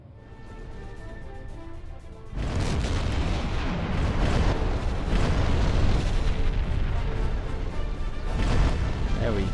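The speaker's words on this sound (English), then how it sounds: "Is there going to be an explosion as she goes down?" Ship exploding as it sinks in the submarine game Silent Hunter 4, a sudden heavy boom that breaks in after two seconds and rolls into a sustained loud rumbling roar, with a second burst near the end.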